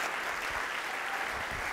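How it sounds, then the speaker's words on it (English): Steady audience applause on stage for a presenter, a dense continuous wash of clapping from a crowd, even in loudness throughout, with no one speaking over it. "let's get a big round of applause for Aaron J."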